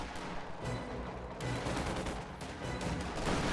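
In a strategy video game battle, riflemen trade fire with Panzer Grenadiers, producing continuous rattling rifle and machine-gun volleys at a steady, moderately loud, slightly distant level.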